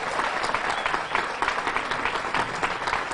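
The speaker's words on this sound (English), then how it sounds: "I'd like to encourage one more round of applause for Olivia Kim." Crowd applauds steadily at an outdoor unveiling of a Frederick Douglass statue, a continuous wash of many hands clapping at moderate, even volume.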